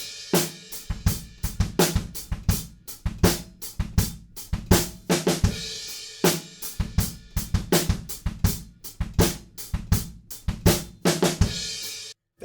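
Drum kit pounds out the two-bar chorus groove of a song, punchy kick and snare hits under bright washing cymbals in a repeating loop, loud and up close, ending abruptly.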